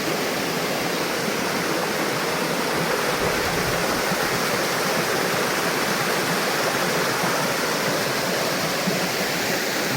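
Loud, unbroken roar of the Thottipparai waterfall at Odugathur, Tamil Nadu, with water pouring and churning close by, steady throughout and free of voices.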